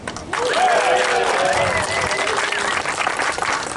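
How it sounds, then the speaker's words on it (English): A live crowd at a public debate on rent control at The Pier cheers and applauds loudly and steadily, a dense wash of clapping and voices that barely eases over several seconds. "I want the crowd to cheer loudly if they agree with the following statement."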